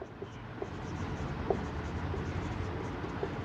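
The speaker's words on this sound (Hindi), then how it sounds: "लिखते हैं हम लोग" Quiet scratching of writing during an electrostatics lecture, light strokes and small taps over a low room hum, with no talking.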